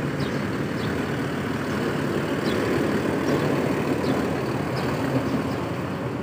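A bus engine rumbles steadily nearby as it passes, a heavy low drone with faint high clicks, with no talking.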